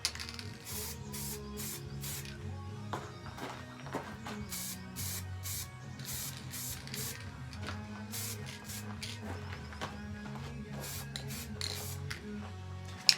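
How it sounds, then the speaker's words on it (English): White primer spray paint is sprayed from a can onto a Ford Maverick / Mazda Tribute car door in a series of short hissing bursts, close by, with brief pauses between them and a low hum underneath. "I just sprayed myself in the face with white paint"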